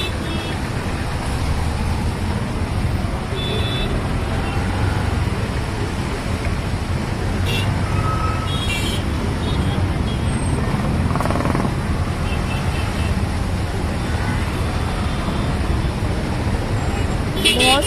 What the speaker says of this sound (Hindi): ट्रैफिक बहुत ज़्यादा है, आप देख सकते होंगे आगे भी पूरी गाड़ियाँ खड़ी हैं लाइन से